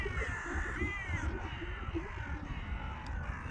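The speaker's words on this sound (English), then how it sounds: "Just love listening to those crows sometimes." Several crows caw repeatedly on a rocky Atlantic shore in Galway, harsh calls rising over a steady rumble of wind or surf, with no one speaking.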